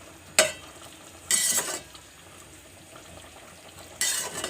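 Chopped onions fry in a pan for a turnip and meat curry, heard as a low background sizzle with three brief bursts of stirring and scraping, close by and without speech.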